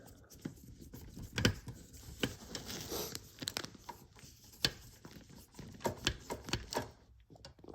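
Small screws are tightened on the headlight-raising mechanism of a KITT scale model, giving close, soft clicks, ratcheting ticks and faint plastic rustles at an irregular pace.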